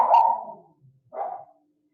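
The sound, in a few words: dogs barking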